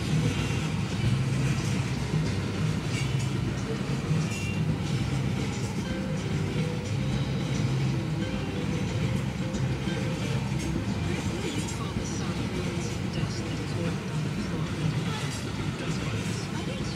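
A BNSF freight train rolls past with a steady rumble and rattle of wagons on rails, continuous and fairly close, with a voice talking over it.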